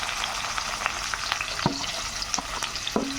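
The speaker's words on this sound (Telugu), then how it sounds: "ఉల్లిపాయలు వేస్తున్నాం." Onions sizzle and crackle steadily in hot oil for okra curry, with several sharp clinks of a spoon stirring the pan close by.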